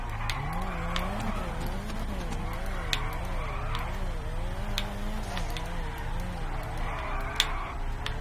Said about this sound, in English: We'll get some speed up and we'll go straight in for a drift.